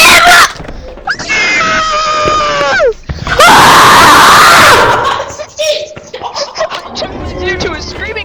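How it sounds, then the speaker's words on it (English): People in a screaming competition let out very loud, close, sustained shrieks and wavering yells one after another, followed by laughter and chatter toward the end. "Due to a screaming competition."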